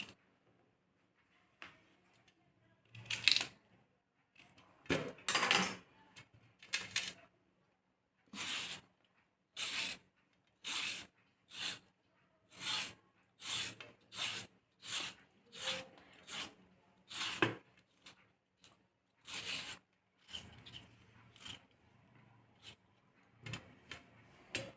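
Radish rubbed against a hand grater for chutney, giving repeated rasping strokes in a steady rhythm, close and distinct, with short pauses between bursts and no talking.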